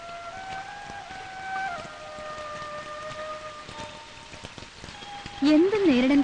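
Steady rain patters close by, a dense drumming that holds throughout while a voice speaks over it and a high cry rises near the end.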